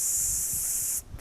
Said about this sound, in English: look at the serving when it comes to PAM butter flavored spray or any PAM spray, and it's 1/3 of a second.